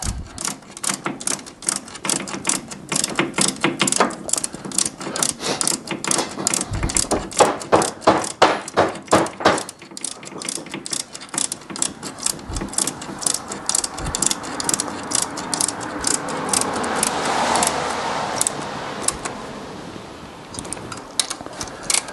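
A ratchet wrench tightening bolts during an engine change on a Whitby Morrison ice cream van: rapid, loud, close clicking in repeated bursts, pausing briefly between strokes before resuming.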